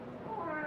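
A cat meows in a graveyard at midnight, a drawn-out wavering cry heard close and fairly loud over a low murky background, with no talk.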